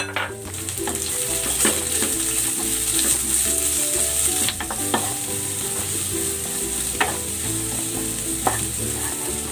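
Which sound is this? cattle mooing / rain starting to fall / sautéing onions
sautéing onions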